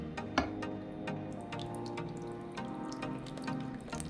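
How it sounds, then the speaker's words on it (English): Hot water pours into a baking dish holding seared turkey tenderloin, a steady close trickle with scattered drips and splashes, tapering slightly toward the end. "We're going to add about 2 cups of hot water"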